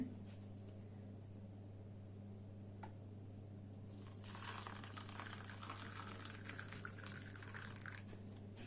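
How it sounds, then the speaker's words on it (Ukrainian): Hot water pours into a container of yarn dye, a soft gushing splash that starts partway through over a low steady hum, quiet and close. "зараз я додаю сюди водичку гарячу"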